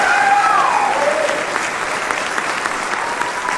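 Applause from an audience at a medical school convocation, a short burst of dense clapping that starts at full strength and holds evenly for a few seconds.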